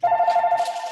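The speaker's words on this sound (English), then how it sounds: "And naturally, my phone rings." A telephone rings with a steady, warbling electronic tone that pulses rapidly, loud and close, heard briefly on its own.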